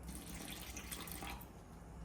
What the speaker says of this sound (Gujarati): હવે આપણે આમાં નાખશું પાણી.